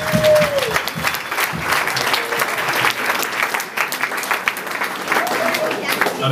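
Loud, sustained applause from a room full of people, clapping steadily throughout with some voices mixed in.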